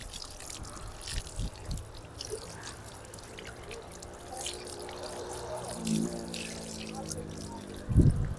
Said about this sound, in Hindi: इसी तरह दूसरे पैर भी धुल लेते हैं हम।